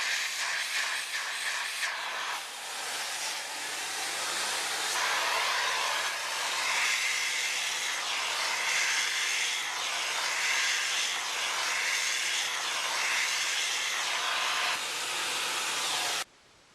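A Dyson DC39 Animal vacuum cleaner runs steadily, a loud airy whine and hiss that holds for over fifteen seconds before cutting off abruptly.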